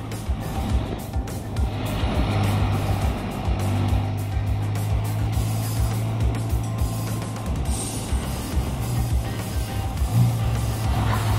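A Can-Am Ryker three-wheeled motorcycle being ridden on the road, its engine droning steadily and loudly throughout, with wind and traffic noise mixed in.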